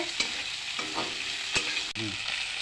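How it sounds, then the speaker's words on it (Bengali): Food frying in a pan with green chillies, onion and rui fish is stirred, giving a continuous sizzle broken by a few sharp scraping knocks of the utensil against the pan. "এখন আমি একটু নাড়ি"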